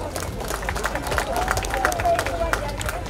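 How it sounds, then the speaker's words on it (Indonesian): An audience at a city anniversary ceremony in Batu claps for the mayor, a dense, steady patter of applause with crowd murmur and a voice carrying over it throughout. "Mungkin bisa aplaus untuk Pak Wali Kota"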